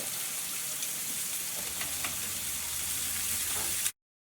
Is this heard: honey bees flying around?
no